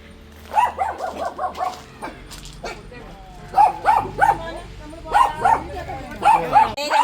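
Dogs at a relative's house in Madappally bark in repeated close bursts, with yips and quick runs of barks separated by short pauses.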